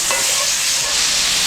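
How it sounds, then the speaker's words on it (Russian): Pork belly frying in a pan with sugar caramel, giving a loud, steady, close sizzle that continues without a break. "все это дело хорошо обжариваем с каждой стороны"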